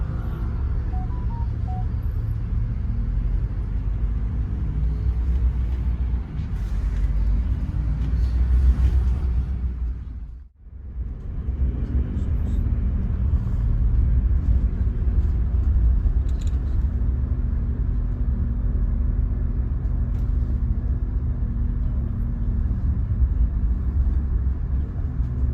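A Rosalia Indah JB5 double-decker bus leaves a terminal with a steady low engine rumble and road drone throughout, briefly dipping near the middle before continuing, with no talking.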